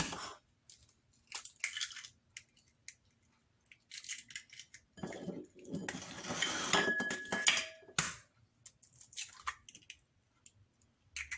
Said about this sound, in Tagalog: Next is the eggs. So we need to put this one in here. Crack this one.